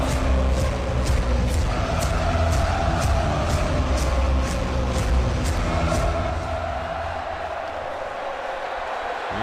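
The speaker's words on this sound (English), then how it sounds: "this is what it sounds like at Sanford Stadium." A Georgia Bulldogs versus South Carolina Gamecocks football crowd at Sanford Stadium roars loudly and continuously, with a sharp rhythmic clicking running through it, then eases slightly toward the end.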